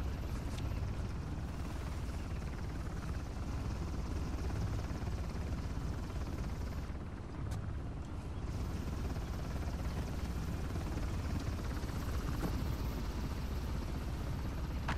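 A helicopter in the video game Uncharted: The Lost Legacy hovers nearby with a steady, dense rotor roar and engine drone that stays constant throughout, with no speech.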